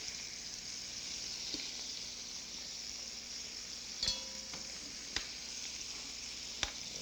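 Lamb pieces browning in a frying pan for a French lamb stew give off a steady, faint sizzle, with a few sharp clinks of a utensil against the pan near the end.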